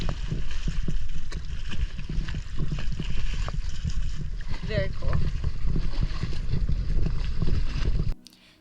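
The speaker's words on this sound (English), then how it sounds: "This is Twin Lagoon, and we're just kayaking at the moment." Kayak paddling across Twin Lagoon in Coron, Philippines: steady splashy water and wind noise fill the scene, with a few brief voice sounds, before it cuts to near quiet at the end.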